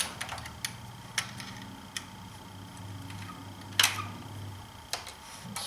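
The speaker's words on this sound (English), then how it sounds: "I can use a ratchet wrench to snug these down" Ratchet wrench snugging down valve cover bolts on a BMW six-cylinder engine: faint, sparse metallic clicks with one sharper tick, over a low, quiet background.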